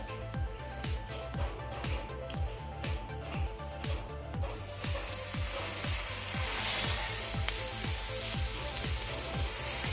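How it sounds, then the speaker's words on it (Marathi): Garlic bread slices toast on a hot griddle over a medium-low gas flame, a soft continuous sizzle with rapid regular ticking clicks in the first half, then a louder, hissier frying sound, fairly quiet overall. "आता आपण यावर हे ब्रेडचे स्लाइस भाजायला घालूया"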